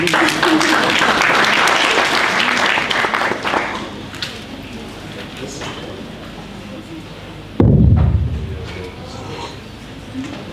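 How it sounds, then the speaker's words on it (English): Applause from colleagues at a security summit ideathon, loud clapping at first that thins and fades, then a sharp thump and rustle as talk resumes. "Let's clap for him for the nerves"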